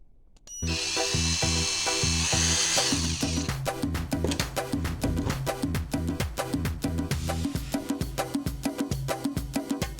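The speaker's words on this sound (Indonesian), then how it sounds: "ini akan saya bor terlebih dahulu" An electric drill starts up close and whines loudly, then keeps running in rapid, rhythmic pulsing bursts as it drills into an amplifier circuit board.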